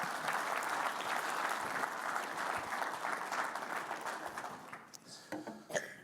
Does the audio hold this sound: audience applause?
yes